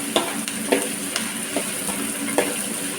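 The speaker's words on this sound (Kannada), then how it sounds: "ಡೀಪಾಗಿ ಫ್ರೈ ಮಾಡಬಾರ್ದು ಒಂದು ರೌಂಡಿಗೆ ತಿರುಗಿಸಿ ಆಫ್ ಮಾಡಿ" Food is stir-fried in a hot pan, giving a steady background sizzle broken by a series of sharp scraping and clinking strokes from the stirring utensil, close and clear.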